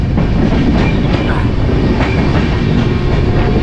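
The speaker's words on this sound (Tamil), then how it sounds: "இப்போ இந்த ட்ரெயின் பார்த்தீங்கன்னா பீகாருக்குள்ளே போயிட்டுருக்கேன்." A passenger train in India travelling through Bihar rumbles steadily, with broadband rail noise and faint wheel clatter held at a constant loud level throughout, without talk.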